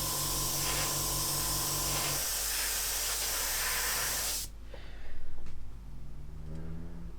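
An airbrush sprays a coat of lacquer paint onto a scale model, giving a loud, continuous close hiss that cuts off about two-thirds through. A few faint, quiet handling noises follow.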